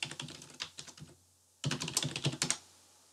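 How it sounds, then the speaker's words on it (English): Fingers tap a computer keyboard while entering data in a spreadsheet: quick, close bursts of clicks, then a pause of about half a second, then another dense flurry of keystrokes, with no voices. "All right, so I type that in"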